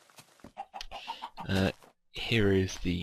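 Chickens cluck in short, quick bursts on a Minecraft chicken farm, close and fairly loud, while someone speaks over and between the clucks.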